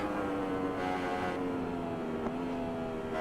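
A Yamaha crossplane-engine motorcycle in the Isle of Man: Ride on the Edge 3 racing game holds a steady, loud engine drone at near-constant pitch, with a brief dip and recovery near the end and no voices.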